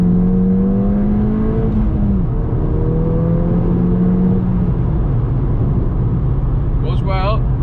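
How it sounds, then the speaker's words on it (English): A remapped car pulls hard through second gear, its engine note climbing steadily in a loud, continuous rising drone, then easing before a gear change near the end. "let's give it a second gear rip."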